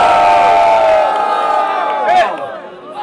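A live hip-hop dance battle crowd, at a state-level final, cheers and shouts loudly for the dancer Johnny, a dense sustained roar with whoops rising above it before tapering off near the end.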